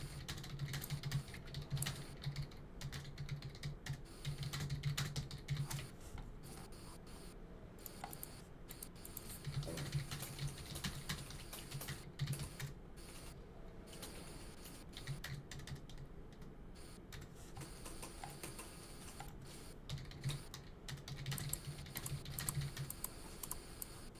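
Rapid clattering keystrokes on a computer keyboard type a message into Roblox chat, steady and close over a continuous low hum, with brief pauses between bursts of typing.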